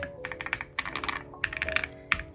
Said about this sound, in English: let's see how it sounds.